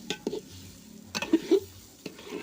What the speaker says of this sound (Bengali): ভাজা হয়ে গেলে এখন চালগুলো ভালো করে ভেজে নেব